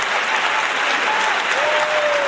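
Audience applause at a comedy stage show, a dense, steady roar of clapping that stays loud and continuous throughout, with a faint whistle-like tone drifting underneath.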